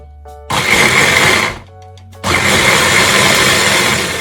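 A kitchen blender grinds peri peri paste with cooking oil in two loud, steady bursts of whirring motor and blade noise, close up, separated by a short pause where the motor hum drops away.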